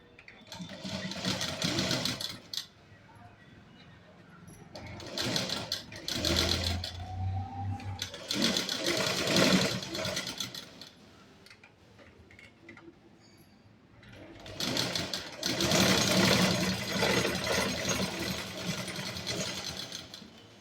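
A sewing machine stitches skirt panels together for an eight-panel underskirt, running in several long loud bursts separated by short pauses.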